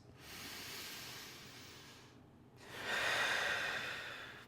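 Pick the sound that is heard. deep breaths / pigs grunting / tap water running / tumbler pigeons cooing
deep breaths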